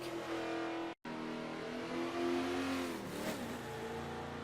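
A 1970 Buick GSX muscle car in Forza 7 at Road America revs hard through the gears, engine pitch climbing and dropping with a brief cut for a shift, loud and continuous with no talk.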